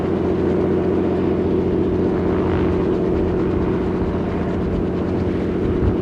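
A light plane passing overhead at a small, busy airport near the runway. A loud, steady engine roar with a broad rumbling hum holds level throughout, close and uninterrupted.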